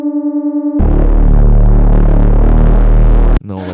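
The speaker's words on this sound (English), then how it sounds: "It's 16 unisons and it's pretty basic with the distortion, with the filter on. It's like a serum bass." Heavily distorted Serum bass synth stacked with 16 unison voices through a filter, a loud sustained buzzing wall of low tone that cuts off abruptly near the end, preceded by a brief pulsing tonal hum.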